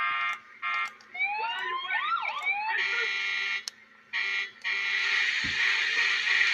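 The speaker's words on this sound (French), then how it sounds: "Véhicule des pompiers. Sirène." Fire truck siren in the video game GTA 4, a loud electronic wail with rising and falling sweeps broken by short gaps, then steady blaring tones, heard alone at close range.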